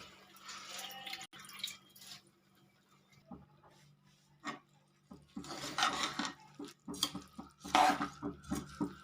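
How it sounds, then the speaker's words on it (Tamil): Raw rice poured and stirred into a metal pot while making Tamil-style dal rice, giving scattered clinks, rattles and watery splashes that grow busier and louder toward the end. "அடுத்ததாக நாம் வந்து இப்போ அரிசியை போட்டுக்கலாம்."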